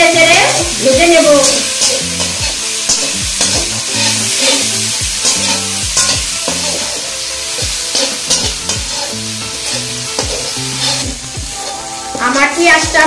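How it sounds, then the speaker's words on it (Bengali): Chopped onions fry in a pan, giving a loud, continuous sizzle broken by frequent scraping and knocking of a utensil as they are stirred, with no talk. "এখন দিয়ে দিচ্ছি কেটে রাখা পেঁয়াজ, এখন এটাকে নেড়ে চেড়ে ভেজে নেব।"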